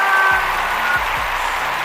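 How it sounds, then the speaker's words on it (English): An audience applauding on a talk show, a steady, fairly even wash of clapping with a few low thumps underneath and no voices. "round of applause"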